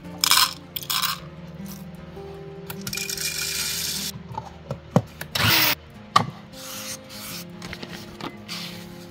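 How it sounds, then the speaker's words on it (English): Coffee beans ground coarse in a grinder for a big batch, heard as short bursts of whirring and grinding broken by gaps, with rattles and clatter of the beans and machine in between. "Making a big batch, grind it nice and coarse."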